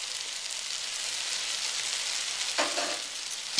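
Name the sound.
chili powder and spices frying in a pan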